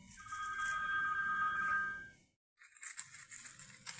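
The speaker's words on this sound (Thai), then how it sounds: "ก็โทรศัพท์ก็ดังพอดีทุกคน" A mobile phone rings outdoors during a forest food-gathering trip with a steady, fairly loud electronic tone for about two seconds. It cuts off into brief silence, then rustling noises follow.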